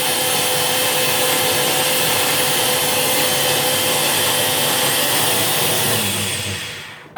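A blender runs loud and steady, whirring a green smoothie for several seconds before winding down sharply at the end.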